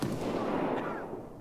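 Gunfire in the Escape From Tarkov video game, a single dull, booming muffled report that rolls off over a second or so, heard distant as if through a wall.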